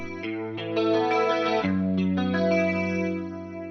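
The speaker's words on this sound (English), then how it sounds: "the song started with this like 80s sounding guitar line that I had." An electric guitar plays a short melodic line with a shimmering chorus-like effect and light distortion, sustained notes ringing out clearly with no voices.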